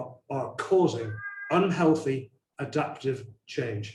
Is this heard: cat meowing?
yes